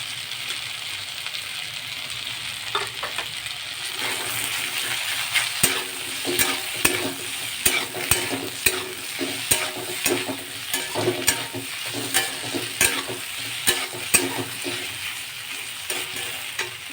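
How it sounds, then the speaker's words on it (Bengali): Mixed vegetables frying in a pan for a fish-head and Malabar spinach dish, a constant sizzle broken by repeated rhythmic clacks and scrapes of a spatula against the pan, close and moderately loud, no voices. "দেখুন সবজিগুলো মোটামুটি ভাজা হয়েছে।"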